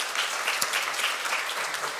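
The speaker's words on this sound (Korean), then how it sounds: "큰 박수 부탁드립니다." A church congregation at a Sunday morning service claps for people receiving completion certificates, a steady, fairly close round of applause lasting a couple of seconds.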